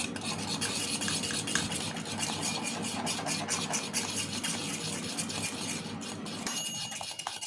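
Colman's parsley sauce is stirred in a pan, giving a continuous, even swishing and scraping at close range that barely changes for the whole stretch; no voices are heard.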